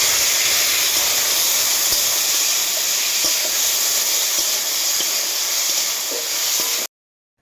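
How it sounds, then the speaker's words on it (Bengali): Small chuna fish fry in hot oil in a kadai, producing a loud, dense, continuous hiss and sizzle with a few faint pops before it cuts off abruptly. "মাছগুলো আমি এখন ছেড়ে দেবো"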